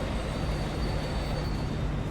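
Oil train on a local route in Transport Fever 2, a steady continuous rolling rumble with faint tonal hums, heard alone and evenly loud throughout.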